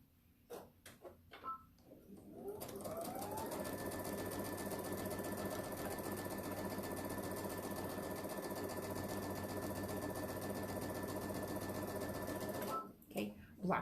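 A sewing machine stitches down a quilt block, starting with a few clicks and then running in a steady, close, continuous mechanical whir of rapid stitches for about ten seconds before stopping.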